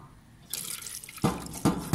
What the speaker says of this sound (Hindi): एक कूलर लगा हुआ है